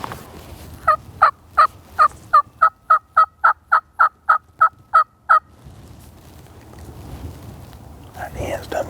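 A wild turkey gobbles in a rapid, evenly spaced series of about fourteen loud calls, followed by quieter outdoor background and faint bird sounds.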